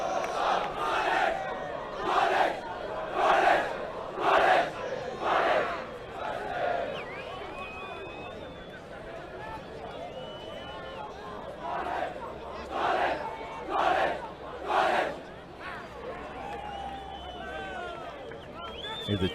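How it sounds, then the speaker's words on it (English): Grey College rugby team chants their war cry as a group of voices, rhythmic shouted bursts in two sets with a quieter stretch between, heard from a distance with crowd noise throughout. "As we see Grey College with their war cry"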